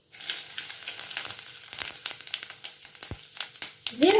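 Cumin seeds frying in coconut oil with mustard seeds and urad dal for a Tirunelveli sodhi kuzhambu: a steady close sizzle and crackle runs throughout, with sharp pops scattered over it.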